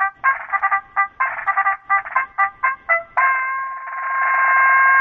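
A telephone ringing on an outgoing call, heard as a string of short, chirpy electronic tone bursts in a rapid uneven rhythm that gives way to a steady sustained tone, close and clear with no talk.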